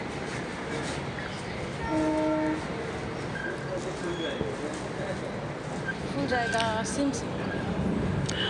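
A yellow train standing at Darjeeling station, with a steady rumble of rail noise, a couple of brief horn-like tones and a busy background of station murmur and voices.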